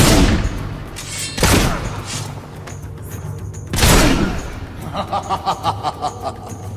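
Heavy gunshots boom out in the Fable 2 video game, two big blasts a few seconds apart followed by a quick rattling burst, loud and close over a low rumbling backdrop.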